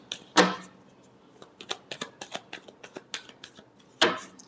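Tarot cards shuffled by hand, a run of quick papery clicks and flutters with two sharper, louder snaps near the start and end, close and otherwise quiet.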